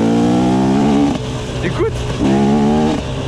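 A small engine revs hard, buzzing like a tuned 125cc two-stroke. Steady high-pitched wails rise and fall twice with a short dip between them, loud and close, while someone talks over it.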